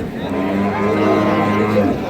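Dairy cows of Sahiwal, Sindhi and local breeds mooing at a cattle market in Dinajpur, a long close low moo with steady harmonic tone under faint crowd murmur.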